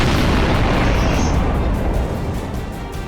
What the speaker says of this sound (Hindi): बटन दबते ही कवर हटता है, गोली की रफ्तार से मिसाइल निकलती है और हजारों टन का भारी भरकम जहाज तक थर्रा उठता है।